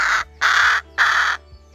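A rook cawing three times in a row, loud, harsh and close, each call about half a second long with short even pauses between.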